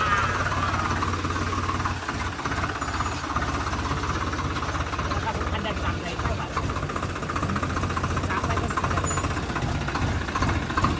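A farm tractor engine runs steadily and loud throughout, with a constant low rumble and mechanical clatter, on a farm near Nashik.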